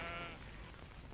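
A sheep bleats once, a wavering nasal cry at moderate distance, then a low rumbling outdoor background carries on.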